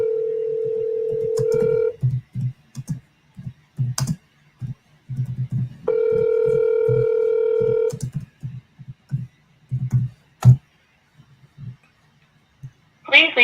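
Telephone dialing and ringing on sales calls: two long steady ring tones separated by a quick run of dialing tones and key clicks, close and clear, with short bursts of voice between.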